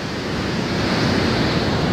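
Meux Creek, flooded and running high under a bridge, gives off a constant, loud broadband rush of water with no pauses.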